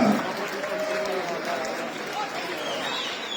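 A crowd at the Solsona Carnival applauds steadily, a dense wash of clapping with some voices mixed in, holding at an even level throughout.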